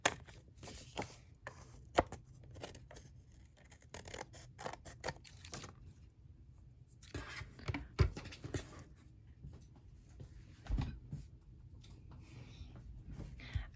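Scissors snipping paper overhang off a mini album, a series of close, crisp cuts and scratchy rustles at an uneven pace, fairly quiet throughout.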